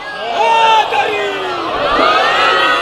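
A crowd at a religious majlis gathering reciting salawat in unison, a loud chorus of many voices rising and falling together, close and filling the space for a few seconds.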